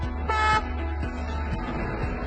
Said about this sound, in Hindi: दो शॉर्ट हॉर्न,